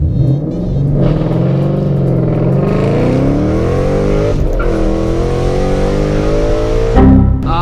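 A 2013-2014 Ford Mustang GT with traction control switched off accelerates hard, its V8 engine rising steadily in pitch through a long pull, then dropping sharply at a gear shift near the end; loud and close, with no talk.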